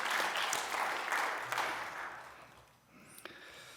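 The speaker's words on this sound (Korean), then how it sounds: "이 모든 수고한 분들을 위해서 우리 한번 박수로 같이 격려해 주시기 바랍니다" Congregation applauding during a Korean church worship service, dense clapping that fades out after a few seconds, followed by a near-silent pause.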